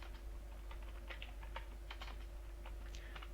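Steady, quiet keystrokes tap out on a computer keyboard in a continuous run of short clicks, close up with no talking.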